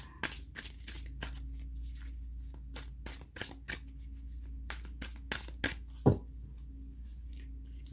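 Cards being shuffled for a tarot-style reading, a quick run of close, crisp riffling snaps and soft slides in irregular bursts, with no talking.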